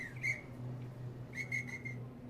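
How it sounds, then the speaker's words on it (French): A station agent blows a shrill whistle twice before a train departs, each a short bright blast over a low, steady hum of the waiting train. "Tu entends l'agent qui siffle maintenant."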